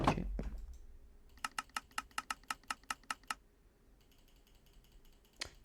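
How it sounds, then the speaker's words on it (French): A computer mouse clicks during a Minecraft survival game, about a dozen sharp, fast, evenly spaced clicks close to the mic, then a pause and a couple more isolated clicks against near silence. "Les clics de souris, on les entend quand même pas mal."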